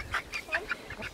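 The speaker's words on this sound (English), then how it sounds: "Here's Paolo catching chickens." Rapid series of about six honking, squawking bird calls from nearby fowl, each short and sharp, fairly loud against a quiet background.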